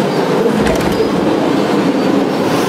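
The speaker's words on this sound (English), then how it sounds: "This is a Brooklyn-bound 2 express train." A subway train in the Roblox game runs along the track with a steady, loud rolling rumble and rhythmic rail clatter, heard alone and close.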